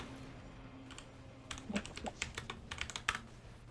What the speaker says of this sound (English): I was busy typing and died.